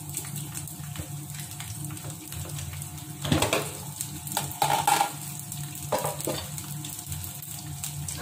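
Shallots frying in a pan for egg fried rice, a steady broadband sizzle with scraping stir strokes bursting louder around the middle, close and continuous, no talk.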